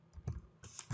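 A few quick, light keystrokes on a computer keyboard while an SQL query is entered, faint and close over a quiet room.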